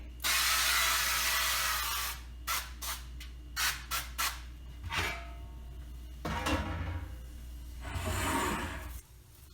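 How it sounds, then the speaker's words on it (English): A long hissing spray of cooking spray onto a baking tray, followed by several short, quick spritzes, then another longer burst of aerosol spray, close up and steady. "I'm going to spray this with a cooking spray"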